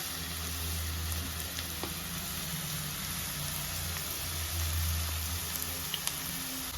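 Onions and green chillies fry in hot peanut oil in a pan, giving a soft, steady sizzle with faint crackles and occasional stirring ticks, no talking.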